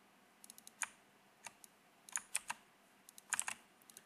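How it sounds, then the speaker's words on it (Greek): Irregular keystrokes on a computer keyboard as TaxisNet login codes are entered, short crisp clicks in small bursts and pauses, close and fairly quiet against a still room. "Πληκτρολογούμε τους κωδικούς TaxisNet"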